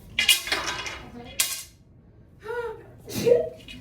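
A single sharp sneeze bursts out early, followed by some breathy sounds and faint clinks nearby.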